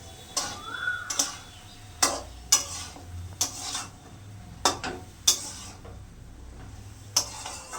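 Vegetables with salt and turmeric being stirred and fried in a pan for a lentil dal, with repeated sharp scraping strokes of a spatula at an irregular pace over a soft steady sizzle.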